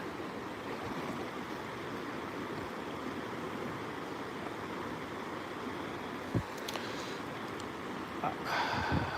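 A rocky trout river rushes toward a waterfall during a winter snowstorm, giving a steady broadband wash of flowing water with a faint thump and some louder splashing near the end.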